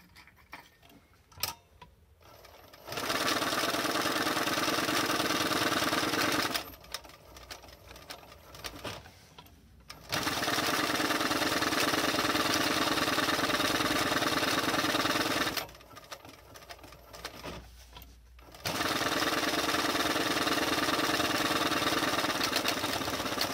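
Sewing machine stitching leather in a leatherworker's workshop, running in three sustained bursts of steady mechanical whirring separated by brief quiet pauses, close and fairly loud with no voices.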